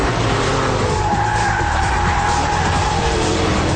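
An Audi R8 and a Porsche Carrera 4S race hard on a track, with loud, continuous engine roar and tires skidding and squealing through a nasty corner, no voices.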